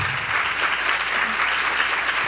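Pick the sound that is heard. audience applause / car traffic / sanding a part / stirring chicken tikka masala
audience applause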